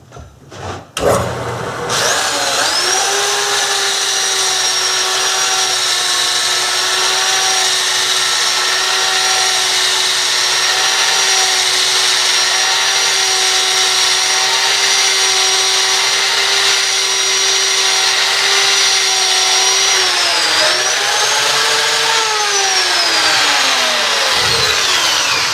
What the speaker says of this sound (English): I'm going to use a right angle drill with a foam pad